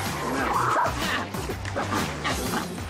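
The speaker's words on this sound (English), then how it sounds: "He's barking at other dogs. He's pulling on the leash. He's growling." A dog on a leash barks repeatedly in short, sharp bursts mixed with growling, fairly close against a noisy outdoor background.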